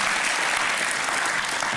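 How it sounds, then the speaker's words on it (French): Steady, dense crowd applause on a French entertainment show, loud and continuous throughout with no voices over it. "Ça mérite un applaudissement."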